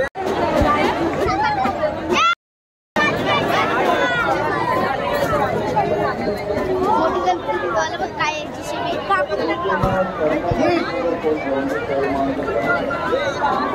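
A dense crowd murmurs and chatters continuously during a Ganesh idol immersion (visarjan) procession, with many overlapping voices close by and one brief silent gap early on.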